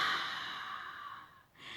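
A single slow, deep breath drawn in and let out close by, a steady airy rush lasting over a second with a brief pause before it resumes.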